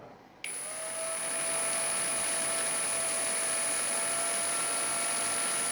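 A Parkside Performance 12V brushless cordless drill (PPBSSA 12 A1) runs at a low 10% speed setting, giving a steady, continuous high-pitched motor whine that starts abruptly and holds evenly and close up with no talk.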